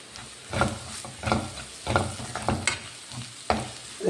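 Food sizzles in a hot pan while a utensil stirs it in a regular rhythm of scraping strokes, close and moderately loud.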